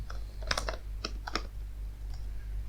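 Someone types on a computer keyboard while entering a variable in code, giving a few quick close clusters of key clicks with short pauses over a low steady hum, with no talking.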